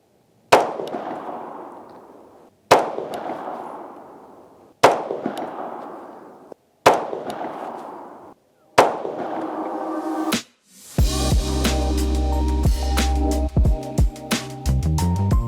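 Crusader Arms Templar rifle firing Winchester white-box 5.56 55-grain bulk ammunition: five loud, sharp shots spaced about two seconds apart, each with a ringing decay, then a clattering burst of metallic rattling at the end.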